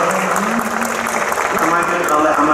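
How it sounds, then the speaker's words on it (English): A crowd applauds steadily throughout a Comic Con Antwerp Q&A session, a dense wash of clapping with a voice talking over it. "Give him a nice round of applause"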